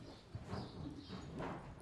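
A horse named Tulay shifts her hooves in a few soft, irregular clip-clops close by, faint and unhurried, with no talking over them.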